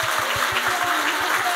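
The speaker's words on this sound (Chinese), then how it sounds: "我们用掌声对他们表示感谢" An audience applauds at a Southern California Chinese traditional orchestra concert, a dense, continuous wash of many hands clapping, loud and steady throughout.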